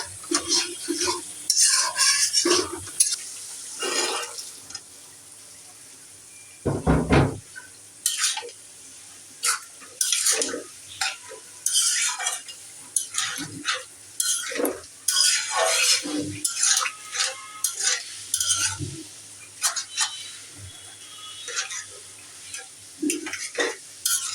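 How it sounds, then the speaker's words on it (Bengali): Spices being stirred and sautéed with small shrimp in a pan, a utensil scraping and clinking in an irregular rhythm over a steady sizzle, close and fairly loud, with no talk. "এই যে চিংড়ি মাছ দিয়ে সব মশলা সব কষাই নিতেছি বন্ধুরা"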